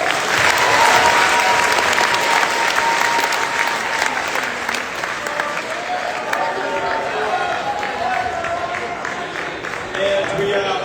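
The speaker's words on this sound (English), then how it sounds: "One more round of applause." Loud, sustained applause from a live audience after a band's performance at a music competition finals, dense clapping with cheering that holds steady for the full stretch and swells slightly near the end.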